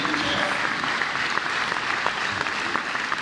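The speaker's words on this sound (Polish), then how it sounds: "poproszę o oklaski" Steady audience applause for members of a church choir at its 100th anniversary celebration in Rumia, a close, continuous dense clapping that holds evenly throughout.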